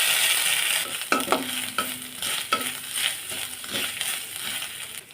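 Cumin, dried red chilli and grated coconut fry in a pan, a steady hiss with spoon scrapes recurring about every second.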